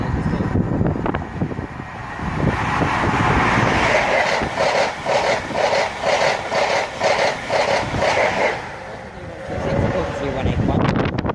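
A train rumbles past at Southall station on the Great Western Main Line, a rhythmic clatter of wheels over rail joints rising to a loud, close pass with wind buffeting the microphone, while a person talks over it.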